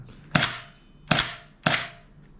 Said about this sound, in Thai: ยิงยิงมันมากเลยนะเซมิไฟฟ้าเนี่ย